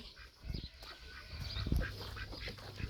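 A duck quacks in a few harsh, low bursts, fairly close by, with some background rustling.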